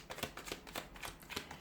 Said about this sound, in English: So we'll give the cards a shuffle